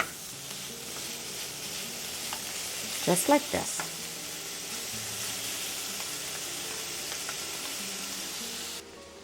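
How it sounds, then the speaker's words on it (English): Bacon sizzling and frying in a pan for Mexican breakfast entomatadas, a steady close crackling hiss with a few clinks of a utensil partway through and brief speech over it. "Now I'm going to fry my bacon until it gets to a real pretty golden brown."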